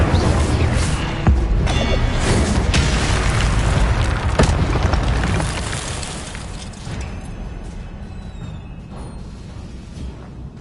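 Fire-spell blasts from the Incendio charm in Hogwarts Legacy, a run of loud, booming magical bursts and whooshes, heavy over the first half and then fading to a softer rumble.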